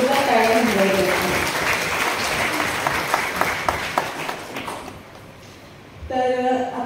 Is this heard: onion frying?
no